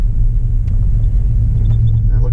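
An LS-engined car with a P59 computer idling in a parking lot after being put in drive, a loud, steady low rumble that keeps going throughout with no distinct rev or launch.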